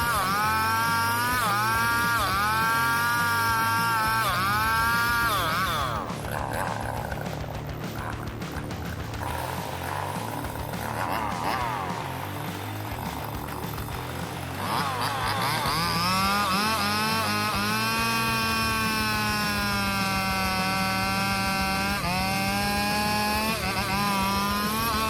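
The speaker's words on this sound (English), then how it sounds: "As the blade makes contact with the tree trunk, the chain starts slicing through," A chainsaw cuts through a tree trunk, its high revving whine rising and falling with the throttle, then dropping to a rougher, strained buzz as the chain bites into the wood before revving up again, loud and close.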